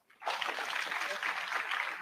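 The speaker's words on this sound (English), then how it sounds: "Please give them a clap." An audience at a memorial tribute breaks into applause, a sudden dense wash of many hands clapping that holds steady and fairly loud throughout.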